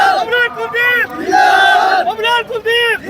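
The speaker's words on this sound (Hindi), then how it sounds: "देखिए लोगों का भारी भीड़ यहाँ पर हाईवे पर है।" A huge crowd gathered along a highway at an RLP election rally in Rajasthan cheers and chants loudly, in close rhythmic bursts of massed voices with a sustained shout in the middle.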